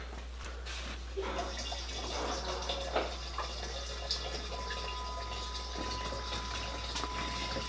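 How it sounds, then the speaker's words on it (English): A vehicle's electric fuel pump pushing gasoline through a hose into a gas can, a constant low hum with gurgling, splashing liquid on top, faint and steady, no voices. "We've got fuel pumping into the gas can"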